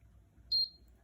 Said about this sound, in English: The beeping that you're hearing now is the 45 seconds for us to get to the keypad and disarm it.